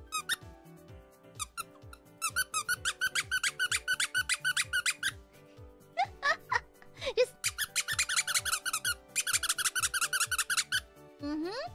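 A squeaky toy is squeezed over and over in quick bursts, shrill and close, with a voice talking now and then between squeezes.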